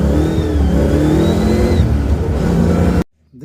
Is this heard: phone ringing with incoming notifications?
no